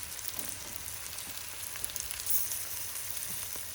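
Ginger and garlic frying in a hot pan for a British Indian restaurant-style chicken chilli fry, a steady close sizzle with fine crackles and spatters, no talking.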